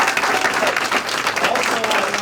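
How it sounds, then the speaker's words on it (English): Audience applause for the organizers of a community leaders' recognition event in New Jersey: dense, steady clapping from a crowd that fills the room throughout, loud and close, with no pauses. "I think they're worth another round of applause"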